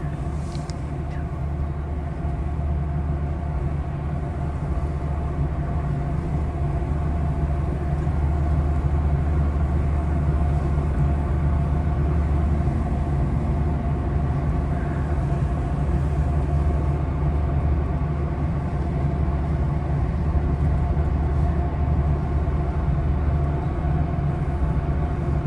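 Steady rumble of a Capitol Corridor Amtrak passenger train riding the rails, a continuous loud low drone with faint rattles and clicks running unbroken throughout.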